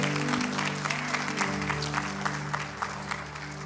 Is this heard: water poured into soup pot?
no